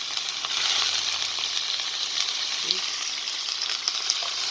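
Catfish dropped into a hot pan with chili, setting off a steady, dense frying sizzle that holds evenly at moderate loudness, with a faint low tone early on and no talking.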